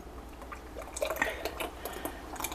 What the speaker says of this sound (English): I'm just going to pour it